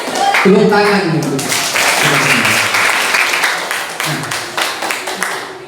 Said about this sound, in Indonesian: Tepuk tangan gitu